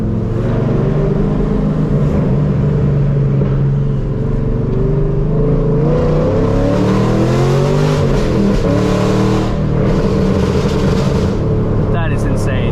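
A fifth-generation Chevrolet Camaro with a straight-piped exhaust accelerates hard with traction control off, its loud rumbling exhaust climbing steadily in pitch through the gears, close and continuous, with a brief shift break near the end.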